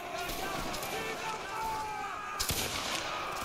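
Gunfire crackles through a Roblox video game battle, a dense, continuous volley of shots with a louder burst near the end, heard alongside game noise.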